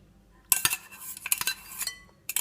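A utensil stirs egg mixture into chocolate lava cake batter in a bowl, giving a few quick scraping clinks and taps in short bursts.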